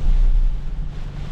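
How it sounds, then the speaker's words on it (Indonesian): Strong gusty wind buffets the microphone during a mountain road trip toward Tretes in a Toyota Fortuner 2.8, a heavy low rumbling roar, loud and close, fading slightly toward the end with no talk. "Bisa gini ya angin ya"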